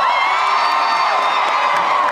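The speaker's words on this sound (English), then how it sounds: "Round of applause for Thor." A convention panel crowd at Wizard World Philadelphia 2016 roars with cheers, whoops and shouts, a dense steady wall of audience noise lasting the whole moment without letting up.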